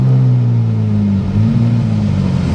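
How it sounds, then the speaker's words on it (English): A brand-new 2024 Corvette Z06 fitted with a custom titanium exhaust runs close by, giving a loud, deep, sustained engine drone with slight swells in pitch. "He just wanted the exhaust because it sounds amazing"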